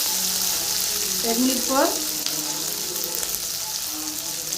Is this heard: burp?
no